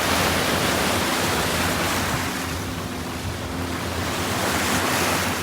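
Ocean surf at a beach in Krabi, Thailand, washes in a steady, dense roar with gusty wind noise across the microphone and no voices.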